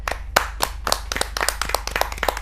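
Strong, dense applause from a kavi sammelan audience welcoming a poet onto the stage, with sharp irregular claps that keep up steadily throughout, loud and close.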